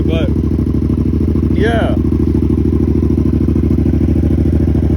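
A motorcycle with a loud, illegal exhaust idles close and heavy, a constant throbbing engine note dominating throughout, with a brief voice on top.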